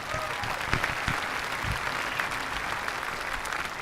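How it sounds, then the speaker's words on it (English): A large audience at a high school graduation ceremony applauds a student, dense sustained clapping from many hands filling the hall evenly for the whole stretch. "Let's give Charlie a round of applause."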